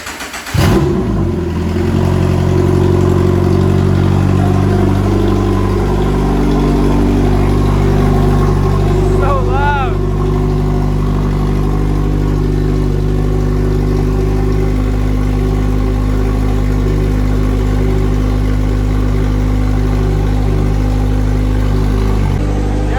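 A 2013 Subaru BRZ engine with no exhaust fitted, venting straight from the downpipes, fires up and runs loud and close with a deep, steady, raw drone. A brief rev rises near the middle. No one speaks.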